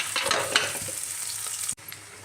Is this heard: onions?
yes